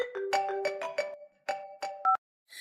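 A phone rings for an outgoing call, a close, bright electronic ringtone of rapid melodic beeps in short bursts, ending with two sharp tones before silence.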